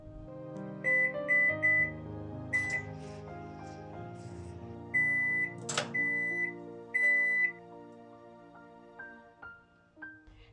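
A microwave oven heating 150 grams of breakfast cream hums steadily while a series of short, high electronic beeps sound in bursts, some in quick pairs and runs.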